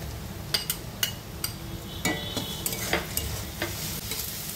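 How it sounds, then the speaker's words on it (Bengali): Ginger and garlic fry with browned onions for a Kerala-style crab roast, giving a continuous close sizzle broken by regular spoon scrapes and light clinks against the pan. "আদা রসুন দিয়েও 2 মিনিটের মতো ভেজে নেব।"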